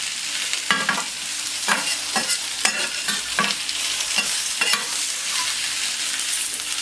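Raw sliced potatoes sautéing on a plancha, a bright, continuous sizzle punctuated by repeated spatula scrapes and taps at a loose, even rhythm, close and fairly loud, with no voices.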